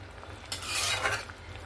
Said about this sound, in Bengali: এখানেই আমি এরকম খুন্তি দিয়ে একটু হালকা করে এরকম দাবিয়ে নেব, কেটে যাবে।